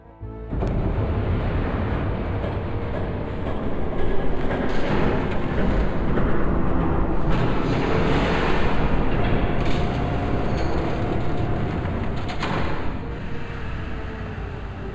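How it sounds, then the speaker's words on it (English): A video game train rumbles past loudly and continuously, a dense mechanical roar with rattling and clanking that swells and holds for several seconds before easing slightly. "There's a train coming."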